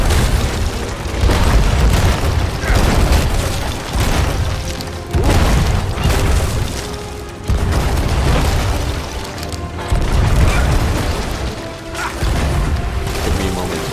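Cannon fire and combat aimed at the Flying Dutchman during a Jack Sparrow fight in the pirate video game Sea of Thieves: loud repeated booming blasts with crashing impacts, sustained and dense across the whole stretch, with voices mixed in.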